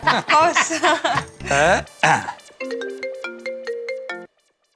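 People talk and chuckle briefly, then a phone's melodic electronic ringtone plays clearly for a couple of seconds before cutting off.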